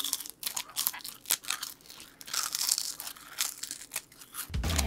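Someone bites into a roasted, crispy World Cup brand snack, an old-fashioned Korean treat, producing close, repeated dry crunches and crinkling bites with no speech.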